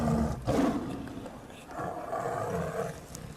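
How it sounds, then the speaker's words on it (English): A large tiger that has been shipped from Greece lets out a deep, rumbling roar from inside its transport crate at Heathrow Airport, followed by a second, longer growl. "The tiger hasn't eaten since leaving Greece."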